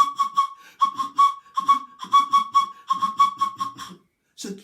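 A storyteller whistles to imitate a bird, giving a run of short, bright chirping phrases separated by brief pauses, close and clear, with a voice briefly heard at the end.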